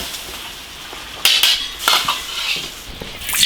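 Cured pork clatters against a wok as it is stirred, giving sharp metallic scrapes and clinks in a few uneven bursts over a quiet background.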